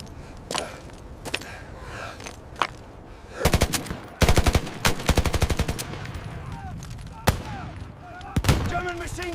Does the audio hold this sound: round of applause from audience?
no